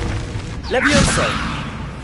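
The Levioso spell being cast in Hogwarts Legacy: a single short magical whoosh with a rising, sweeping shimmer and a soft thud, close and fairly loud over a steady game background.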